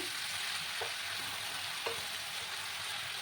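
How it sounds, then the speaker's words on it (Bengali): Boiled young jackfruit pieces frying in a little added oil in a wok, a soft, continuous sizzle with a couple of faint spatula scrapes and stirs, close by and without speech. "কড়ার মধ্যে আরেকটু তেল দিয়েছি। এবার আমি এগুলোকে ভেজে নেব।"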